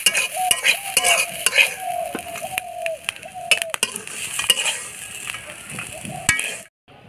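Dry red chillies and coconut frying together in a pan in a village kitchen, with steady sizzling under repeated scraping stirs and light clinks of a utensil against the pan, close and continuous before stopping at the end.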